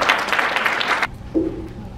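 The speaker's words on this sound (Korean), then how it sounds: "박수로 환영해 주시기 바랍니다." Audience applause welcoming a speaker to the stage at a Christian business fellowship homecoming dinner, a dense burst of clapping that stops abruptly after about a second, followed by quieter room noise and a brief low hum.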